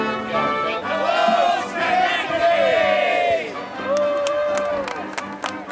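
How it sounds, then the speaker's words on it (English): A crowd waiting for a train in Schenectady cheers and shouts in rising and falling bursts, lively voices overlapping near and far. "A crowd was waiting, and a band was playing."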